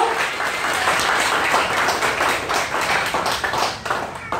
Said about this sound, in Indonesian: Berikan tepuk tangan untuk ketiga pembicara kita, Bapak Ibu.